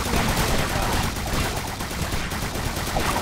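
Continuous dense gunfire from toxic gunner towers in a tower defense video game, a loud steady barrage of rapid shots filling the whole stretch with no pauses.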